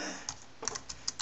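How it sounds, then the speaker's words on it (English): Fingers tapping on a Sanoxy Anker Bluetooth keyboard paired with a Samsung Galaxy Note 2, producing a quick run of soft, light key clicks close by with no voices. "I am typing with my new Bluetooth"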